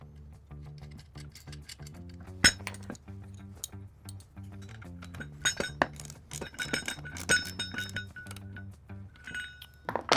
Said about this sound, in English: And then we'll apply the split washer and the nut.